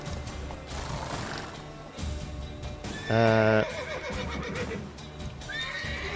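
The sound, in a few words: horse neighing in video game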